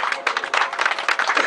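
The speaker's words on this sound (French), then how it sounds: "Voilà, on peut l'applaudir." An audience claps steadily in close, dense applause at an awards ceremony, a brief burst of hands without voices on top.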